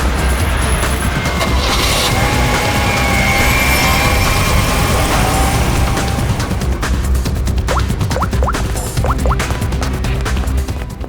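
A car engine runs loud and close, a steady rumbling drone with some scraping and rattling, as the vehicle pulls away from the scene.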